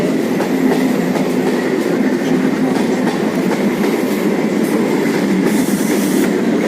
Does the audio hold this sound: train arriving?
yes